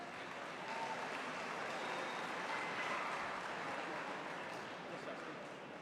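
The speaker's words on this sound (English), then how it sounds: "If I could have a round of applause for our truck driving graduates." At a graduation ceremony, a crowd keeps up steady, dense applause for truck driving graduates for several seconds, heard from a distance with no break.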